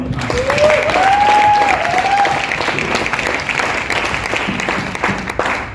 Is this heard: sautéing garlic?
no